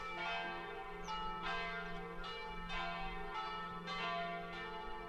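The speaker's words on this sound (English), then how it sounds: "The Basilica's carillon has 5 bells." A basilica carillon of five bells rings in a steady, repeating peal, with strikes about every second over a long resonant hum, heard faint and distant with no voices.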